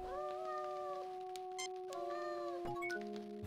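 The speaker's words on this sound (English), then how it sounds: "I talk to the cat." A cat in the Star Trek: Judgement Rites video game gives drawn-out, tonal meows over a steady synthesized background hum, two long calls followed by a shorter one.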